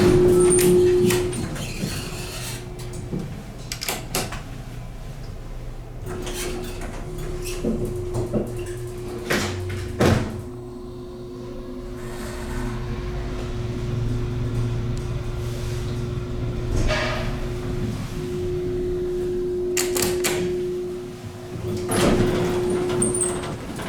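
A steady mechanical hum drones beneath intermittent clunks and thumps as a Dover traction elevator motor runs during descent, with no talking.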